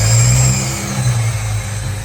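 A cheap Chinese throttle body with a noisy idle air control valve on a running car engine, giving a loud, steady sucking hum with a deep droning tone, continuous and close, no voices.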